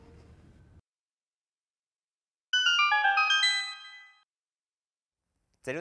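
A bright, bell-like chime from a gold Skulltula in a Zelda video game rings in a quick cascade of tones, clear and alone, then fades into silence.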